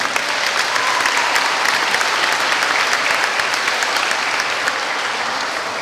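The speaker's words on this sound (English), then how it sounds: "let's give everyone a hand of applause for being here this morning" Sustained audience applause at a school's 100th anniversary celebration, a steady, loud wash of many hands clapping for several seconds with no talking.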